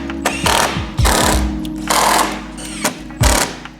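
A power tool tightens splitter bolts on a BMW G80 M3. It fires in four loud, close rattling bursts separated by short pauses, with no voices.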